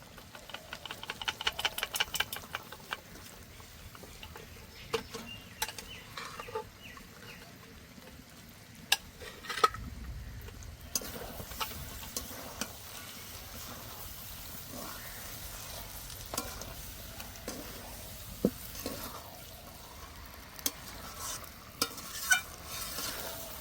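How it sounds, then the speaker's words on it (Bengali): Peas and chicken stir-fried in a pan: quiet scraping and clattering strokes of a spoon, in rapid bursts at first and then scattered, over a faint sizzle, with no talking. "মটর দিয়ে আবারও কষে নিয়েছি"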